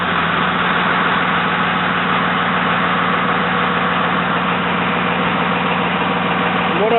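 A 2001 Dodge Cummins diesel pickup engine runs at a loud, steady idle. Its deep, even rumble stays constant and close throughout.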